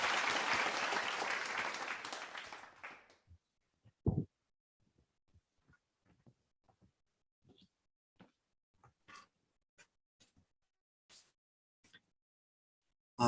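A short burst of applause from a crowd at a True Children's Day and Foundation Day ceremony, dense clapping for about three seconds that fades into near silence with scattered faint knocks.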